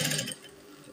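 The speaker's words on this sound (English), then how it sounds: "So I'm going to sew." A sewing machine stitching stretchy fabric for a turban gives a brief, busy mechanical whir that is loudest at the start, then fades to a low hum before ticking up again at the very end.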